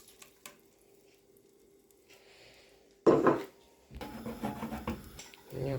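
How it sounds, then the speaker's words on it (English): Food dropped into a hot frying pan in a home kitchen gives a sudden loud sizzling burst, then settles into a steady, crackling fry close by, with faint kitchen clatter before it. "Let's go and put this in the frying pan."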